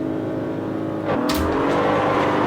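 A race car engine in the Assetto Corsa racing game holds high, steady revs on the start line, then pitches up sharply as the launch begins, loud and close throughout.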